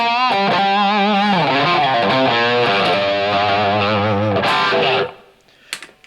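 Electric guitar with two Tri-Sonic pickups wired out of phase, playing a sustained distorted chord-and-lead phrase that rings loud and steady for about five seconds, then cuts off into near silence with a couple of faint string noises.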